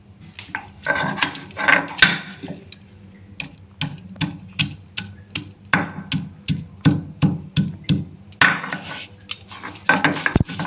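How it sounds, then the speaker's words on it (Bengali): Fresh ginger is ground into a fine paste, likely on a grinding stone, producing a steady series of sharp, close knocks and scraping strokes in an uneven rhythm, with no voice. "আদা দিয়ে বেটে নিচ্ছি। দেখুন বন্ধুরা, আমি এটা একদম মিহি করে বেটে নিচ্ছি।"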